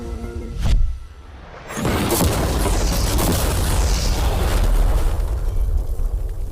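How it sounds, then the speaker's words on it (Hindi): A normal car is blown up by explosives in a huge blast, followed by a long roaring, crackling rumble of debris and fire that fills the rest of the clip. "चलो उड़ाते हैं एक नॉर्मल कार को"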